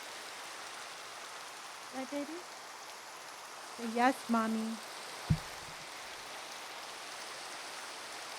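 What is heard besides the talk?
rain in video game Minecraft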